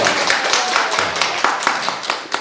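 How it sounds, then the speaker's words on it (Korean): A church congregation clapping during a worship service, a dense, brisk patter of many hands with some louder, sharper claps, close and continuous. "박수"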